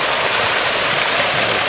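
A small waterfall at the Los Angeles Arboretum rushes in a dense, even wash of splashing water, close and loud, with no voices over it.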